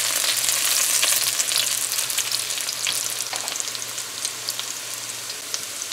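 Onion frying in hot oil for an eggplant, eddo and shrimp dish: a loud, close, continuous hissing sizzle with scattered pops and crackles, easing slightly over time, with no talk.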